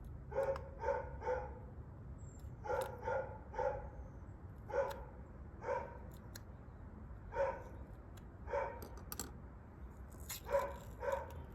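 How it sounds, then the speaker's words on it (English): A dog barks repeatedly at a distance, sharp single and paired barks spaced irregularly over a low background hum. "That dog is very annoying."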